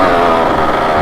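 A two-stroke off-road motorcycle, a Suzuki ER 185cc or Honda MTX125R, revs hard climbing a steep jungle trail, its engine droning loud and close in a steady, continuous roar.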